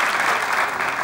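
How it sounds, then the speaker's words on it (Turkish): Audience applause for a comedy sketch performance, a steady dense wash of clapping filling the short moment without a break. "özel bir alkış isterim, olağanüstü bir performansı"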